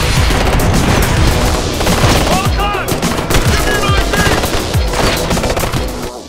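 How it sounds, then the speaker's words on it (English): Intense gunfire firefight in Ghost Recon Future Soldier, with dense, continuous machine-gun bursts, rapid shots and booms filling the whole stretch loudly. "really feel the intensity of a firefight if bullets are flying across your head"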